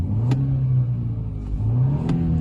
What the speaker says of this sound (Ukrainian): газує нормально, все рівно.